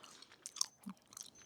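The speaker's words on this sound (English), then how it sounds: "I am doing my next shot where I'm actually chewing this gum." A mouthful of gum being chewed close up, soft wet clicks and smacks in an uneven rhythm, very faint and brief.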